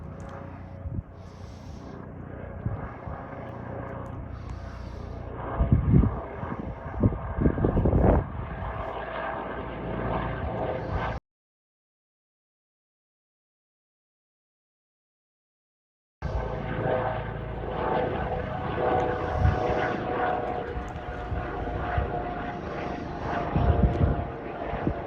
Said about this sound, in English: So this is the Airbus H135.